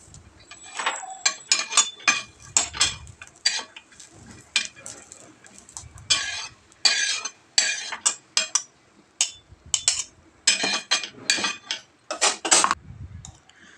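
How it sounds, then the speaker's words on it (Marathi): Roasted green chilies and other ingredients are scraped from a pan into a steel mixer jar, giving repeated clinks and scrapes in uneven bursts, close and fairly loud. "भाजलेलं होतं ते तिन्हीही नंतर एका मिक्सरच्या भांड्यामध्ये मी ते काढून घेते"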